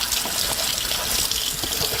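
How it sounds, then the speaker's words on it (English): Tap water runs steadily into a kitchen sink as food is rinsed off for a lamb burger, a continuous close hiss and splash with no talking. "And all you gotta do is rinse it off."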